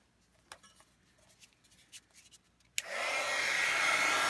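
Heat tool switching on to melt embossing powder on a stamped card: a few faint rustles and taps, then a sharp click and a loud steady blowing whoosh that continues to the end.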